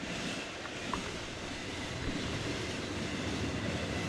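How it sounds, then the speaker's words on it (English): A steady, distant rumble of a train rolling past, a continuous broadband roar with faint rail noise and no talking. "I don't think this train is as long as the last one"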